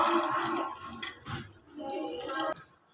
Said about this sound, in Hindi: अब इसमें गर्म पानी डाल रही हूँ।